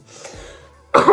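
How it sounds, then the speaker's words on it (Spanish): A single sharp cough close to the mic near the end, after a moment of quiet room sound. "¿Y la tos esta? ¿Cuánto hace que tengo tos?"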